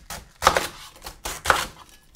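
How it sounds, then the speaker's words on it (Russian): A knife chops through savoy cabbage on a board, several crisp crunching cuts in an uneven rhythm, close and clear with no talking. "И сразу вырезаю кочерыжку."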